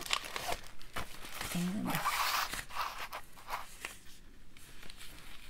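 Paper window envelopes rustle and crinkle as they are handled and sorted by hand, close and fairly soft, with a brief spoken word in the middle.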